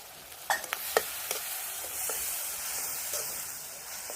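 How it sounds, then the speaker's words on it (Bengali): Chili powder, turmeric and salt sautéed in a pan, with a steady sizzling hiss broken by a few sharp scraping stirs near the start. "মশলাগুলোকে কষিয়ে নিয়েছি।"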